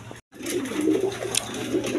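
A GNS pigeon coos in a loft, with soft, low, rolling calls close by after a brief moment of silence at the start.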